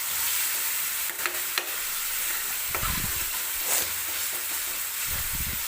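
Ginger-garlic paste fries in hot oil for pav bhaji, a steady close sizzle with a few scraping stirs of a spoon and short bursts of louder crackle.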